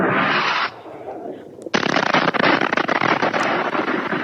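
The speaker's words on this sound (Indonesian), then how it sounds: "serangan yang disusul dentuman keras di kawasan tersebut" Explosion from an Israeli bombing in southern Lebanon picked up by a CCTV camera: a steady noisy rush, then a sudden sharp blast followed by a loud, crackling roar of debris and rumble.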